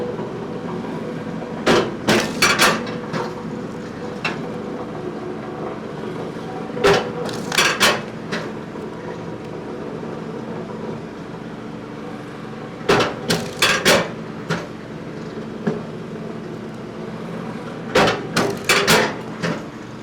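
A MechMaxx 34 ton kinetic log splitter splits firewood log rounds, each split marked by a few sharp, loud cracks and clunks. These come in clusters several seconds apart over a steady low machine hum.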